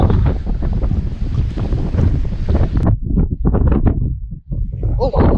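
Strong wind buffets the microphone on a fishing boat off the Big Island of Hawaii, a loud continuous roar with water slapping and splashing, while people talk over it.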